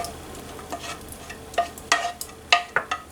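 Sauce goes into a hot pan for mole and sizzles, with irregular sharp scrapes and clinks from a utensil over a low frying hiss, close and moderately loud.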